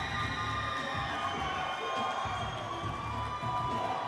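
An independent wrestling crowd cheers and shouts steadily while an entrance song plays loudly over the arena, the noise sustained throughout.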